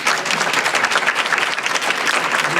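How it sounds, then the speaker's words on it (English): Sustained applause from a conference audience, dense steady clapping throughout with no pauses. "Let's give her a big hand of applause."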